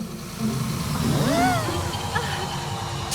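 A cartoon bus engine hums as it pulls up, a mid-pitched motor with a rising and falling tone, fairly close under a background of ambient sound.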